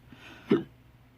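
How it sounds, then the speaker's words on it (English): A single sharp hiccup sounds close and fairly loud, standing alone above a quiet room background. "Oh, hiccups now, great."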